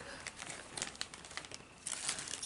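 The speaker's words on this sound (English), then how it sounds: "I have to take it out of those plastic bags" Thin plastic bags crinkle and rustle in irregular bursts as fabric is pulled out of them, moderately close, with no talking.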